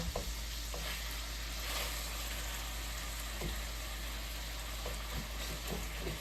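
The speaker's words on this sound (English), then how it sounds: "Now shred your salmon in the pan." Shredded salmon cooks in a frying pan for egg rolls, giving a steady quiet sizzle with occasional faint scraping stirs and a constant low hum beneath.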